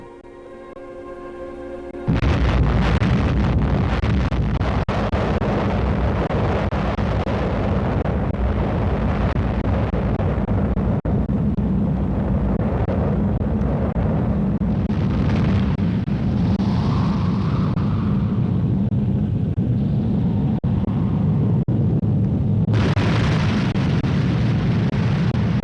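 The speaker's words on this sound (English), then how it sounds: "Experienced their first atomic explosion" An atomic bomb detonates on a military test battlefield, a sudden massive blast that swells into a sustained, deafening roar and rumble lasting many seconds, with no voices.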